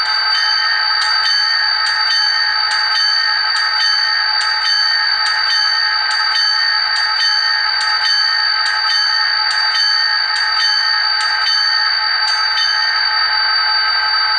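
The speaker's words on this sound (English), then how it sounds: "So here's the true, authentic, realistic Canadian bronze bell." A bright bronze locomotive bell sound from a model locomotive sound decoder rings steadily, struck in an even repeating rhythm for the whole stretch, with a sustained ringing tone underneath.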